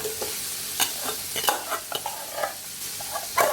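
Rice being stir-fried in a hot pan for salmon fried rice, with a steady sizzle broken by scraping strokes of a spatula at an irregular rhythm.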